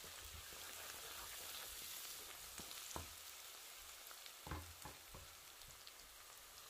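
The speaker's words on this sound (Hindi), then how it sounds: "प्याज डाल के हम इन्हें फ्राई कर लेंगे तकरीबन 2 मिनट के लिए" Sliced onions and ginger garlic paste fry in a pan for a chicken karahi, giving a soft, steady sizzle with a few light stirring clicks and scrapes, quiet and without voices.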